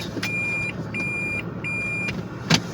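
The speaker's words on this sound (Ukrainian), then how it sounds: "Пищить на задній хід." Reversing beeps from a car backing up on a snowy, slushy residential street in Winnipeg: a steady run of evenly spaced electronic tones over constant engine and road noise.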